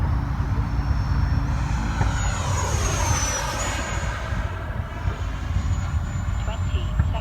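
A Freewing T-33 radio-controlled model jet flies steadily overhead, its ducted-fan whine sweeping in pitch at a moderate distance over continuous wind and outdoor background noise.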